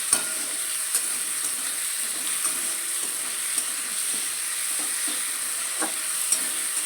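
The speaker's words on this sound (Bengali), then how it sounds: "এবার আমি একটু ভালো করে নাড়বো" Tomatoes with salt and turmeric sizzle in a pan as they are stirred, a steady, moderately quiet hiss broken by occasional light clicks and scrapes of the spoon.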